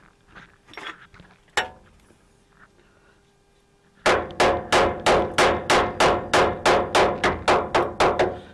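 Chip hammer striking the steel chassis of a rat rod, a steady run of about fifteen loud, close, sharp metallic blows after a single earlier strike and some quieter shuffling.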